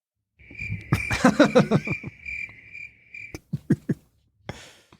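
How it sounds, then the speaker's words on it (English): Crickets chirping as a comic sound effect, a loud steady trill through the first few seconds while a voice talks over it, followed by a few sharp clicks and a faint rustle. "Crickets."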